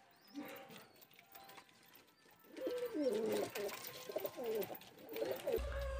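Giribaz high-flying pigeons coo softly in a loft, a run of low throaty calls nearby but faint, with light rustling and a dull thump at the end.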